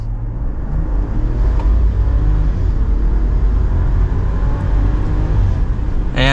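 A 2025 Ram 1500 Crew Cab 4X4 Limited pickup with the high-output engine accelerates at full throttle, its deep engine roar heard from inside and building steadily in a continuous loud surge with no speech.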